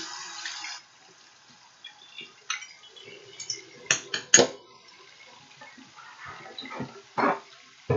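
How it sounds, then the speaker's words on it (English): Metal salon implements are lifted out of Barbicide disinfectant water and rinsed, with scattered clinks and brief splashes and a short burst of running water, all close and fairly quiet with pauses between. "I'm going to put my goggles and my gloves on, take my implements out of the water, rinse"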